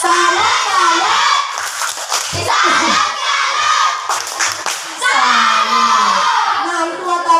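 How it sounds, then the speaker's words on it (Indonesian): Schoolchildren in a classroom perform a tepuk salut clapping cheer, loud and close, with excited shouting voices and rhythmic chanting over bursts of clapping throughout. "coba semua tepuk salut"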